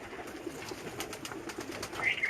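Rampuri pigeons coo softly in a loft, low murmuring calls repeating steadily with faint background chatter of other birds and a brief higher chirp near the end.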